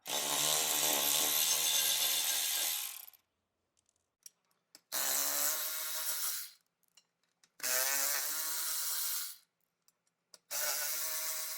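Compact power tool, an impact-style unit, running off the beadlock ring bolts on a 2024 Ford Bronco wheel: four loud buzzing bursts of a few seconds each, separated by short pauses with faint clicks, no talking.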